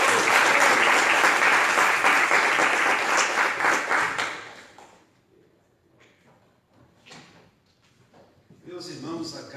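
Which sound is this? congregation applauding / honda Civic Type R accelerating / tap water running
congregation applauding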